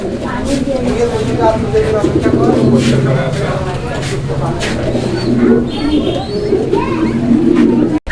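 Pigeons coo steadily at a pigeon farm, a continuous layered murmur of throaty calls close by, with someone talking over them throughout.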